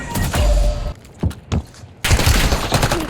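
Gunfire in Call of Duty Warzone (Black Ops 6 era) on Xbox Series X: a loud, close burst of rapid shots, a couple of separate thuds, then another sustained volley.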